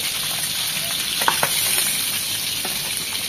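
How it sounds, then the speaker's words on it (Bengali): Large rohu fish pieces frying in hot oil, giving a steady close sizzle with a few brief crackles and spatters, no voices. "ওই পাশটা এরকম 1 মিনিট ভেজে নেব।"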